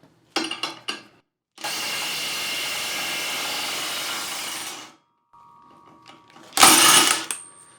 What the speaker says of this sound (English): we're going to need to get a 1/2 inch impact and it's probably going to struggle a little bit